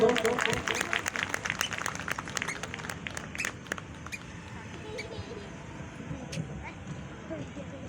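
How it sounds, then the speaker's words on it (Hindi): A crowd applauds with brisk clapping at a Buddha Jayanti gathering in Chhattisgarh, gradually thinning and fading over a murmur of background noise. "जोरदार तालियां दोस्तों।"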